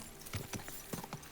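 Horse hooves clip-clopping during riding in the video game Kingdom Come: Deliverance II, a quick rhythmic series of soft hoofbeats at moderate distance with no talk.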